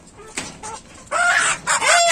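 A red rooster crows twice, loud and close, with a shorter call and faint clucking from hens before it.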